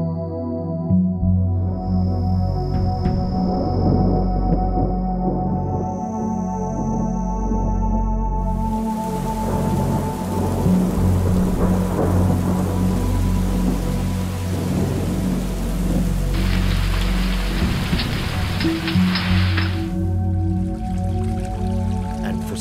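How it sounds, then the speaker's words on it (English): Steady rain falls across a dry desert landscape in Israel in December, a dense, even hiss of drops with rolling thunder underneath, loud and continuous throughout with no voices. "But December brings the first welcoming rains."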